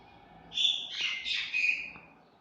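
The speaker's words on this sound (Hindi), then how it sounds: "ये मैना आके देखिए शोर मचा रहा है।" A myna bird calling noisily nearby, a short burst of loud, shrill, squawking chatter in three or four quick phrases against a quiet background.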